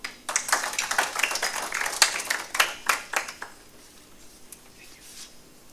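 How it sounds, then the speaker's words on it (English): An audience at a Kenya diaspora homecoming convention gives a short burst of clapping that swells quickly, then thins out and fades to quiet after about three seconds. "A round of applause for him."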